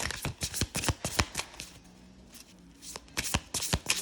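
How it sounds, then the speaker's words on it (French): Fragile French-edition tarot cards riffle-shuffled by hand: a quick run of sharp, crisp card flutters, a brief quieter pause, then another burst of close, loud shuffling. "il faut faire quand même attention quand on bat les cartes"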